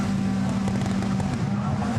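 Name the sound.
rallycross car engine revving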